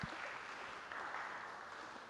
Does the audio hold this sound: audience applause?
yes